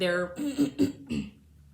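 A few rough throat-clearing bursts in quick succession after drinking tea, fairly close and moderately loud, fading into quiet.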